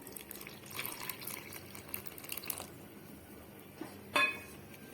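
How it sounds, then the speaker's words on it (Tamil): Water rinsed from a mixer jar is poured into a pot of koju kulambu curry with greens, a soft steady trickle and splash, ending with a faint clink of the jar. "நான் மிக்ஸி ஜார கழுவி சேர்த்துக்கிறேன்."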